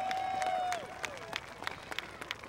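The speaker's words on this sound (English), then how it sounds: "give her a nice round of applause" Scattered applause from a crowd at an outdoor combine demolition event, distant claps under a brief tone and sparse crowd noise, faint and spread out.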